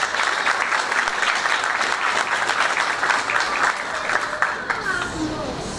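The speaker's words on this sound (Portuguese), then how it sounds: "Palmas para ele, por favor, pessoal." An audience at a Brazilian concert event applauds, dense steady clapping holding throughout with crowd voices mixed in underneath.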